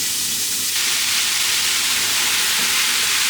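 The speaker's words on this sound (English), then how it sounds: "I'm just going to heat up a little bit of olive oil, and I'm going to be cooking 800 grams of lean beef mince" Lean beef mince frying in hot olive oil gives a loud, dense, close sizzle with a constant hissing texture throughout, alone without voices.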